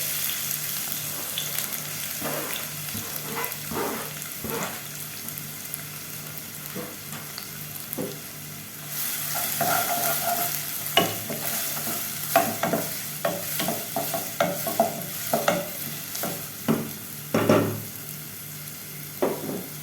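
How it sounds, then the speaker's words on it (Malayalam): Thinly sliced onion fries in oil in a pan, making a continuous close sizzle broken by repeated scraping stirs that grow louder and more frequent in the second half, with no speech. "നന്നായിട്ടൊന്ന് പൊരിഞ്ഞ് വരട്ടെ"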